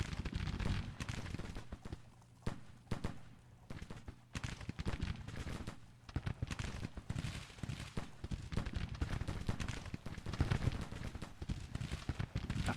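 Dense battle gunfire from Grand Tactician: The Civil War at Bull Run, with rapid crackling musket volleys and deeper artillery booms rolling on without pause, loud and close throughout.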